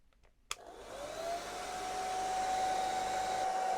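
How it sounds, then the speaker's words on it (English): A hairdryer switches on after a faint click and blows hot air onto the temperature sensor of a caravan fridge cooling fan, its whine rising and settling into a loud, steady whoosh with a clear tonal hum. "And my test involves a hairdryer."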